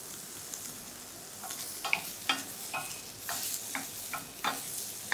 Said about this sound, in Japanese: ベーコンから油を出して、まずベーコンをカリカリに焼き上げます。